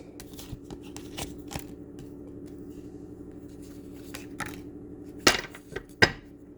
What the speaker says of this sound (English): I'm gonna pull pull a couple of cards so we can get overall messages.